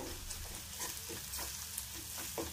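Ginger, garlic and turmeric fry in a pan for bombil bhurji, a quiet continuous sizzle with soft stirring scrapes throughout and no voices.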